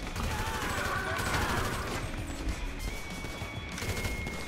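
Steady automatic gunfire in GTA V, shooting at a cactus in desert scrub, a loud continuous rattle of shots with faint voices underneath.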